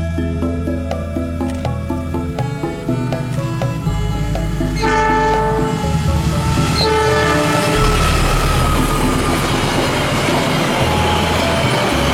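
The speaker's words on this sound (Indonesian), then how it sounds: "kereta api Argo Semeru dari Jakarta tujuan Surabaya yang melewati daerah ini saat langit sudah mau gelap" Argo Semeru passenger train from Jakarta to Surabaya passing at dusk: a loud horn blast at first, then a continuous rumble with clattering wheels and a faint squeal as the carriages roll close by.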